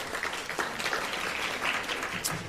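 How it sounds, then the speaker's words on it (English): A luncheon audience at an arts organization's annual event applauds during special remarks, a steady patter of many hands clapping at moderate distance, fairly quiet and even. "Only the men are clapping."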